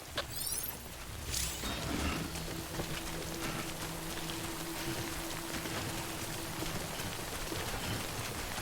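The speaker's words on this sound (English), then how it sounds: "Good thing it was raining." Steady rainfall in the video game Death Stranding patters on surfaces throughout, with a faint mechanical hum underneath and a brief whooshing sweep near the start.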